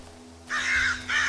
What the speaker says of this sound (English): Always gotta throw in some loud-ass birds.